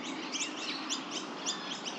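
Birds chirp and trill repeatedly along a river bike path, steady bright calls layered over a dense wash of background noise, fairly close and without speech.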